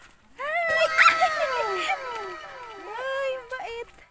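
A dog near a waterfall in Puerto Princesa gives a string of high whines and yelps that rise and fall, close and fairly loud, with people's voices around it.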